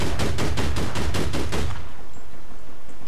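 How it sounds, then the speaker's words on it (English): Rapid automatic gunfire in the game APB Reloaded, a loud burst of about eight evenly spaced shots over a second and a half, then a short fading tail and near quiet. "she's still shooting me through the fence"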